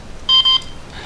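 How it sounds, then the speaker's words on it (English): Two short high-pitched electronic beeps in quick succession as an Air Hogs Star Wars TIE Fighter battle drone binds to its controller, close and clear against faint background hiss. "we hear a bind little beep there, double beep, and now it's bound."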